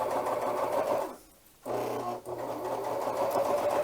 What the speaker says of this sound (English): I'm going to start sewing